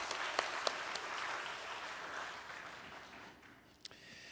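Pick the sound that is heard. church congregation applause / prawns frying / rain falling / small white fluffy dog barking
church congregation applause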